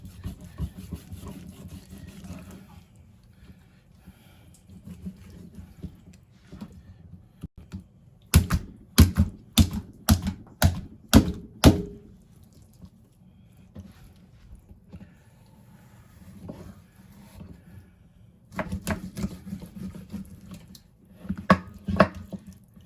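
A knife chopping through a 10 lb blue catfish from West Point Lake makes close, sharp cracking chops in two rapid bursts, with quiet stretches of background between them.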